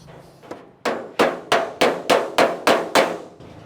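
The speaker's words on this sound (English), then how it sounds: "I'll use this hammer is made for putting on skins." A run of sharp metallic hammer blows on sheet metal with a hammer and dolly, working a Model A Ford coupe trunk lid, two light taps then seven steady, evenly spaced loud strikes, close by with no talking.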